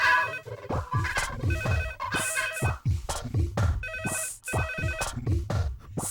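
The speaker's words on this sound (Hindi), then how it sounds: "फोन।" A phone rings in a scene from a South Indian action movie dubbed in Hindi, with a repeating electronic ringtone pattern that is loud and close and plays steadily throughout.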